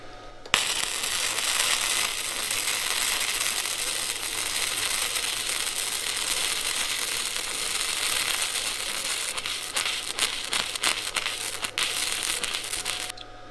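Arccaptain MIG145Pro MIG welder running a long continuous pass, a steady bright crackling buzz with faint stuttering pops near the end, sustained and fairly close.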